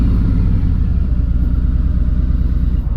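A 2019 Harley-Davidson Road King Special with a 114 engine rumbles loud and close with a low, steady, throbbing exhaust note as the bike comes to a stop.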